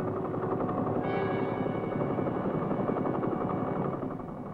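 An Army helicopter in flight over South Vietnam, its rotor and engine making a dense steady drone with rapid blade chop, heard from inside, continuous and unaccompanied by speech.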